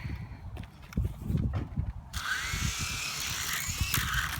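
A Propel toy helicopter's rotor whirs up into a steady, close electric buzz outdoors on grass, rising sharply midway and holding loud to the end over low handling thumps.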